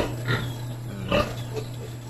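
A sow with her piglets in a backyard pen in the province grunts softly a few times over the steady hum of an electric fan.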